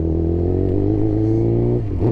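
Suzuki GSX-R 600 sportbike with a loud aftermarket exhaust, engine droning at steady revs with strong low harmonics, then easing off and popping briefly at the end, close-up from the rider's position.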